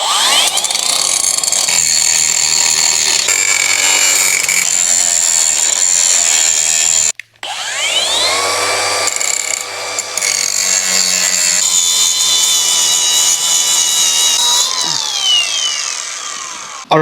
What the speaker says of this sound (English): we have got the frame trimmed and sanded, so she's all smooth, all nice and trimmed up.